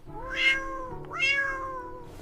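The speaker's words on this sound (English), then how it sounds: "Look at that cat." A cat meows twice, close and clear, each call a drawn-out rising and falling cry with a short pause between them.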